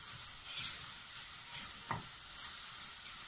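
Chopped fennel sweats in a pan on high heat with beef mince, giving a soft, steady sizzle with brief stirring scrapes and clatters. It is fairly quiet, with no talking.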